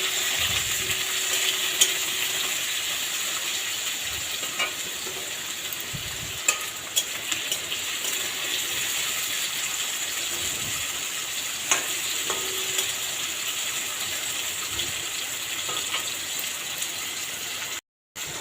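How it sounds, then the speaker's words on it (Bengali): Cut potato and tomato fry in a hot pan with a steady sizzle and crackle, broken by occasional stirring scrapes and clicks, close and continuous with no talk. "এবার এটাকে একটু লাল লাল করে ভেজে নেব"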